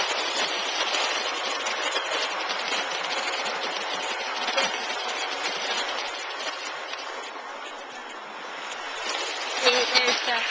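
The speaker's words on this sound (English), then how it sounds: "I'll move my train to show you." An O-scale model train runs along a home layout, giving a steady close whirring, clattering rumble that holds for about ten seconds, with a few sharper clicks near the end.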